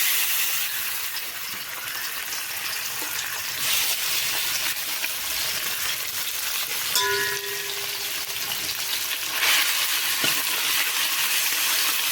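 Potato curry (chorchori) with fish frying in a pan, a steady broadband sizzle running throughout, with brief clinks and a short tonal squeak partway through, no talking.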